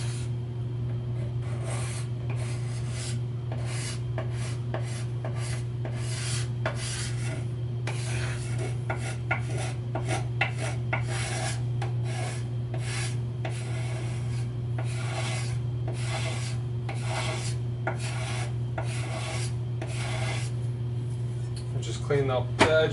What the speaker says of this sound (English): So we'll continue to scrape the binding, going around, turning the body in the clamp.